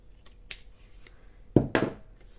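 Scissors snip through paper on a diagonal for a Halloween explosion box craft: a couple of faint clicks, then two sharp, close cuts in quick succession in a quiet room.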